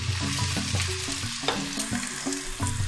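Chopped tomato goes into a pan of frying onions and crackles in hot oil, a dense close sizzle stirred repeatedly with rhythmic scraping strokes and no talking.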